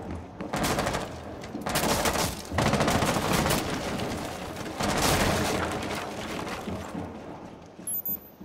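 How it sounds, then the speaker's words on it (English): Sustained bursts of automatic gunfire shot through a hatch in Rainbow Six Siege, a Chalet map match, loud and dense with brief pauses between volleys and no talk over it. "BRT, now you shoot through the hatch"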